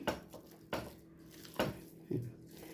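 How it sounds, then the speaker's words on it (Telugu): A ladle mashes soft cooked rice for small children in a metal pot, giving four separate scraping knocks, each followed by a soft squish, quiet and close. "బాగా గరిటితో ఇలా అనుకోండి బాగా మ్యాష్ అయిపోతుంది ఇది"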